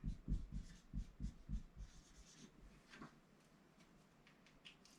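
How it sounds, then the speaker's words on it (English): Chalk or pen writing on a board during a math lecture, a run of quick rhythmic taps and strokes up front, then fainter scratching as the room goes quiet. "I write it this way."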